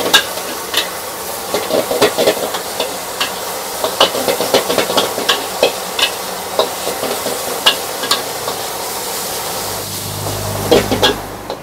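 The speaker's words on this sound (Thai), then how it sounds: "หมูป่าผัดเผ็ดนะครับ" Spicy wild boar stir-fry tossed in a hot pan at a Thai restaurant, with a steady sizzle and repeated scraping stirs of a spatula, close and loud, no talking.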